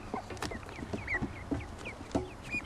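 A mallard duck and several very young ducklings call together, with thin high peeps and short chirps scattered between a few lower clucking notes, fairly quiet and near.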